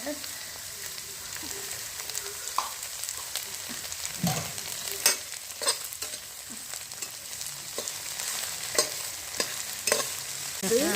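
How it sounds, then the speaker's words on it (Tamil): Pirandai (adamant creeper) sautéing with salt in a pan, a steady close sizzle broken by scraping stirs and clacks of the spoon against the pan over eleven seconds, with no voices. "இந்த பிரண்டை வதங்கும் பொழுது இந்த உப்பையும் புளியையும் நம்ம போட்டு வதக்கணும்"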